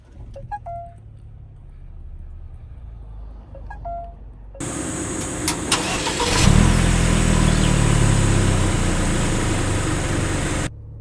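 A Ford Territory Titanium X SUV started with the push button after a couple of short electronic chimes; the engine catches with a burst and settles into a steady idle hum.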